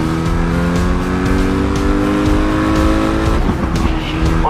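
Race cars roar continuously in the racing video game Grid Legends, engines loud and steady with rising pitch and a brief tire squeal.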